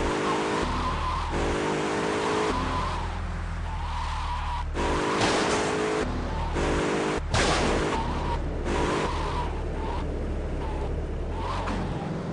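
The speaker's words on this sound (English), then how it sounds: "We got a stolen squad car driving erratically." In GTA Vice City, a stolen police squad car roars along with its engine droning as tires squeal and skid repeatedly in short bursts during erratic driving, loud and close throughout.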